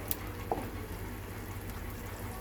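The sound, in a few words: curry paste frying in oil for mushroom curry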